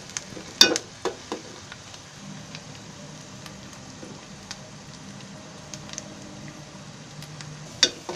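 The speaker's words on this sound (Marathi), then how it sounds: "कांदा थोडा लाल होईपर्यंत भाजायचा आहे." Onion and curry leaves frying in a pan for a Marathi prawn curry, a low steady sizzle with occasional stirring and utensil clinks, close and fairly quiet.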